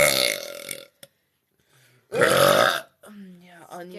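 Two long, loud burps from women after a meal of spaghetti and meatballs with onions, close up, separated by a brief silence and followed by a short voiced sound.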